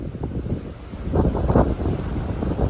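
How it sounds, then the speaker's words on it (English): Gusty wind buffets the microphone on an exposed black rock cliff along the Appalachian Trail on a cold day, a steady low roar that swells louder midway, with no talking. "It's cold and windy"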